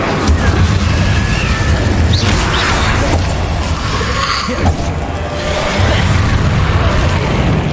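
Loud, booming blasts from the Confringo blasting spell in Hogwarts Legacy, several heavy explosions with whooshing tails packed close together and close up, with a voice now and then over the din.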